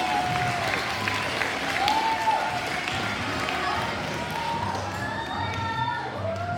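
Moderate clapping rises from families at an elementary school fifth-grade moving-on ceremony, mixed with crowd murmur and scattered voices in a large room.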